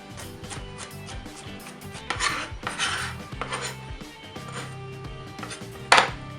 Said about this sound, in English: Just roughly chop it.